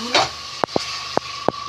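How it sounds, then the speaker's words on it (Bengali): Salted, boiled-and-fried potatoes drop into a hot pan for a fish-roe fritter dish, bringing a steady hiss with four sharp clacks as pieces land. A voice is heard briefly at the start. "দিলাম আলুগুলো"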